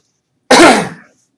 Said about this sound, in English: Excuse my coughing again